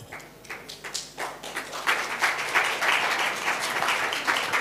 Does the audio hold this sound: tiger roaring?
no